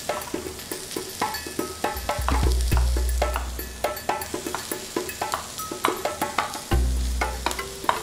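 Steak sears in a hot pan with a steady sizzle. Frequent sharp knocks and clatter of kitchen work run over it throughout, and no one speaks.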